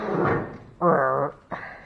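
A door on a 1954 Chevrolet Bel Air crew cab being opened, heard as a short sequence of close creaks and metallic clunks, two or three distinct sounds in quick succession with no talking.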